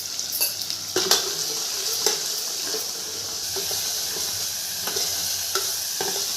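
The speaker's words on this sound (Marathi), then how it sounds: "हिरवी मिरची छान तेलावर परतून घ्यायची" Green chilies frying in hot oil with a pinch of turmeric in a home kitchen, a steady close sizzle broken by a few sharp clinks and scrapes of stirring, with no talking.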